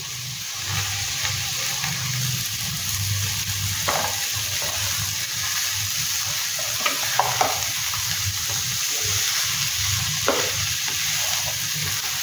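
Carrots, capsicum and other vegetables are stir-fried in a pan for a Chinese-style veg dish, giving a loud, steady sizzle with intermittent scraping and clacking stirs up close, no talking.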